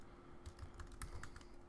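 Quiet typing on a computer keyboard, a run of separate soft key clicks in an irregular rhythm, close and alone, with no talking.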